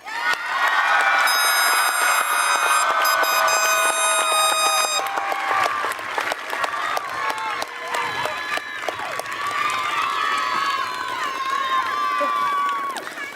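Graduation ceremony audience at a Russell County Schools event clapping and cheering for graduates, a sustained dense wash of applause with whoops and shouts lasting throughout, loud and close.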